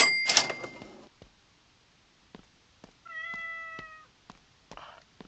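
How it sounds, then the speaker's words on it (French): A cat meows from somewhere nearby in a pumping simulator game: a short harmonic cry mid-clip after a louder opening burst, with scattered clicks and knocks around it. "Tu miaules, mais t'es où?"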